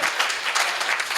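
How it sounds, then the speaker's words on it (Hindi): An audience at a Hindi comic poetry recital bursts into loud, sustained applause, a dense crowd of clapping hands rolling on without pause. "ताली तो जोर से बजाओ।"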